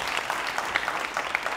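Studio audience of a French television show clapping together, a steady dense patter of hands sustained throughout the short stretch with no voices over it.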